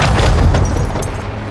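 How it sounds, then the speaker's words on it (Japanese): A landmine blast in Call of Duty: Modern Warfare 2, heard as one loud, heavy low boom that swells early and slowly rolls off over about a second and a half, with no talking over it. "なんだ、今の爆発は。"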